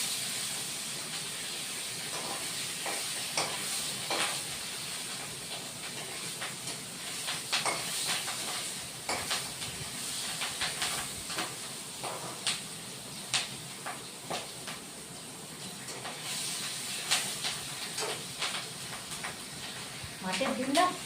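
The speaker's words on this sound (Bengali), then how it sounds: "অল্প ডিম ছিল মাছের মধ্যে, মাছ ডিমটাও ভেজে নিই।" Rohu fish roe frying in hot oil, a continuous close hiss of spattering with scattered sharp pops and crackles throughout, fairly quiet and steady.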